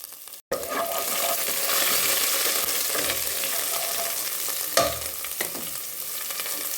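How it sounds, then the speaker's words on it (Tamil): Green chillies, fennel seeds and ginger sauté in a pan of hot oil with a steady sizzle, punctuated by a couple of stirring scrapes and a soft clink near the end; no one speaks. "பச்சை மிளகா சோம்பு இஞ்சி அதை போட்டு நல்லா வதக்கணும்"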